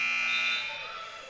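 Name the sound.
buzzer going off during a volleyball match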